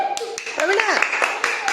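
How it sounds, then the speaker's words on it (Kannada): Schoolchildren in an Indian classroom clap together in a quick rhythmic series of sharp claps, heard under a voice speaking nearby. "ಇವಂಗೂ ಚಪ್ಪಾಳೆ ಹೊಡ್ರಿ ಎಲ್ಲರೂ"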